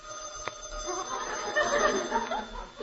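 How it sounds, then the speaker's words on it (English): A telephone rings in a home, a bright repeating bell tone running steadily through the clip, moderately loud, with brief voices and chuckles mixed in. "The phone's ringing."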